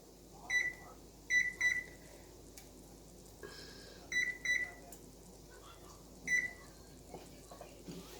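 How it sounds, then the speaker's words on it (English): Kitchen timer chirps as it is set, short high electronic beeps in quick pairs and singles spread over several seconds, faint and close in a quiet kitchen. "I'm going to start this timer for a minute"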